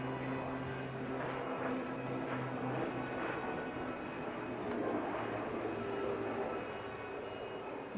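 Aerobatic aircraft flying at the Bengaluru air show during a horizontal figure-eight manoeuvre, a steady distant engine drone with a low rumble over crowd and ambient noise, faint and continuous.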